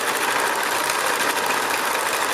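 A sewing machine stitching fabric in free machine embroidery, a fast, even mechanical whirr that holds steady and close for the whole short stretch, with no voices.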